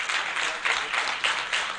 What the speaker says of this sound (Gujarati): જોરદાર તાળીઓથી આપણે બાબુભાઈને વધાવીએ